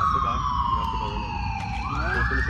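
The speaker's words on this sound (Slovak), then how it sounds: "len tieto sanitky, keby tu nehúkali" An ambulance siren wails nearby. It is loud and sweeps down in pitch, then rises again, and a voice can be heard faintly underneath.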